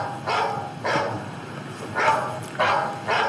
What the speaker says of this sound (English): Seems to be a dog in the house.